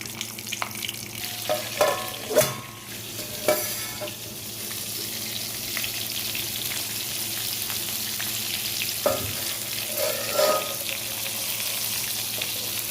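Stuffed capsicum (bell) peppers frying in a shallow layer of oil, a steady sizzle running throughout with occasional louder clatters and bursts as the peppers are placed and moved in the pan, no voices.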